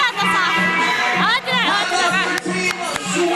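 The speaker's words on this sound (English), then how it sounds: "So out here is cheering for Team Japan. Make some noise for Team Japan" Spectators at a 3x3 basketball Olympic qualifying tournament cheer for Team Japan. A dense crowd roar swells with shouts and excited voices, loud and continuous, as an announcer talks over the noise.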